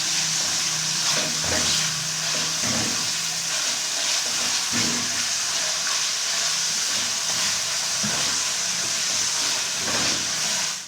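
Chicken sizzles in a hot pan over fried garlic for vegetable fried rice, a steady loud hiss and crackle with occasional stirring scrapes and no talk.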